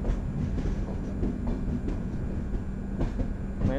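Mandovi Express on the Konkan railway runs with a steady low rumble and a soft, continuous rattle of carriages, a few faint clacks rising over the even drone.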